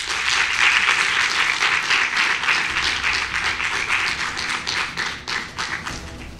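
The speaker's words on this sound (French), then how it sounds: "applaudissez très chaleureusement Malik Barreau." A crowd at an eloquence contest final in Montpellier applauds a speaker, a thick sustained wash of clapping close by that gradually thins into scattered, more separate claps toward the end.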